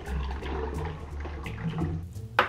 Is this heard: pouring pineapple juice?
yes